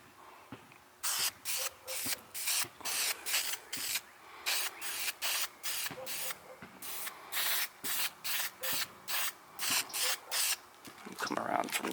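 Spray can paint being applied to a taped-off Honda CT70 clutch cover: a rapid series of short, close hissing bursts in a choppy rhythm, one after another, with a little faint talk underneath.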